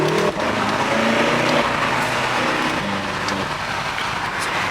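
A Jeep TrackHawk's exhaust roars loudly and continuously while driving under a bridge, the engine note rising and shifting with a brief dip as gears change.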